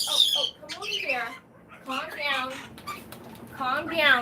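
Several pet birds in a home bird room squawk and screech loudly and repeatedly in close, overlapping bursts, with a person talking among them.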